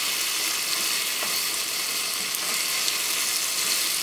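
Onions frying in a pan with ground beef, a steady close hiss and sizzle with faint scraping, no voices.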